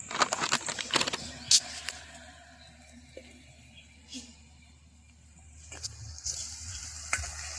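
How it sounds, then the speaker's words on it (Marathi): Onions frying in a pan over a wood-fired stove give a soft, steady sizzle with a few sharp clinks and scrapes of stirring. "कांद्याला चांगलं गोल्डन होतं भाजायचं, तळायचं"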